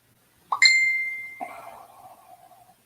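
A phone notification chimes once with a bright, ringing ding, followed by a softer, lower second tone that fades out; nearby and clear against a quiet room.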